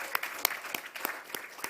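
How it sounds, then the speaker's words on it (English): Sparse, scattered hand claps from a small audience at a malaria eradication event, a handful of distinct sharp claps spaced irregularly over a soft background. "I think another round of applause,"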